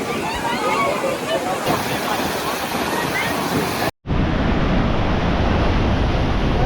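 High sea waves crash continuously against rocks on the coast at Dwarka, Gujarat, a loud steady roaring surf with wind noise, broken by a brief gap and cut partway through.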